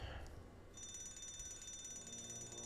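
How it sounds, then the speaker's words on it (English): A fire alarm rings inside a LEGO Marvel's Avengers game, a steady high electronic tone with a rattling, mechanical edge that starts after a brief moment and holds continuously over a low rumbling background. "at least we know the fire alarm works"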